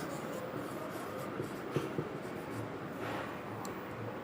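Chalk or marker scratches and rubs across a board during a Class 12 electrochemistry lecture, a faint, uneven scraping with a few light taps against quiet room noise.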